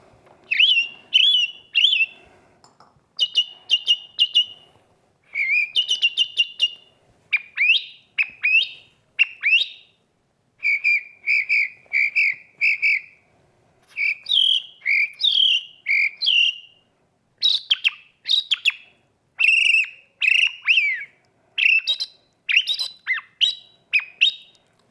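A person whistles an imitation of song thrush birdsong: short bright phrases, each repeated in bursts, with brief pauses between them. It is close and loud and carries on alone throughout, with no talking.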